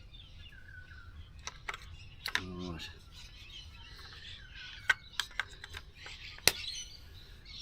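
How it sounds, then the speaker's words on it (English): Birds chirp and tweet in scattered bursts at sunrise against a quiet outdoor background on a backroad between Sydney and Brisbane, with a few sharp clicks and a brief spoken word. "Listen to all the birds."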